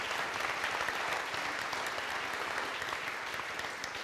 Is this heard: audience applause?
yes